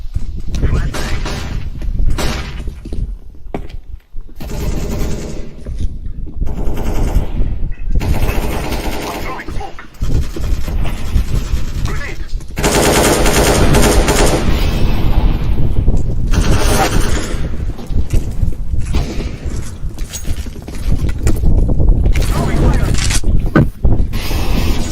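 AK rifle fire in a video game: loud, rapid automatic bursts repeating over nearly half a minute, with voices talking between and over the shots.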